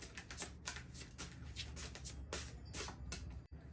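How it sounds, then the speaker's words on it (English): Oracle cards are shuffled with quick, papery riffling flutters that repeat steadily, close up and fairly quiet over a faint background hum. "We'll shuffle some oracle"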